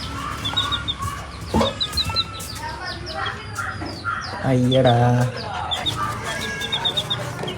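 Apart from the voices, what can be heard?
chickens clucking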